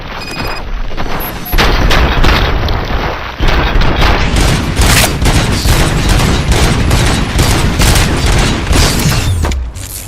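Loud, sustained gunfire from the video game Robocop: Rogue City: dense rapid bursts and booming shots pile up almost without pause, then tail off at the end.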